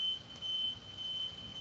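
An alarm rings in a lecture room: a steady high electronic tone that pulses on and off at a moderate level over a low background rumble, with no talk.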